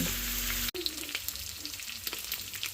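Cut pork fries in a pan until browned for adobong sitaw, giving a steady close sizzle with light crackles and a brief stir near the start.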